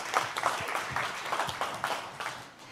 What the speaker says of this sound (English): please give a round of applause to her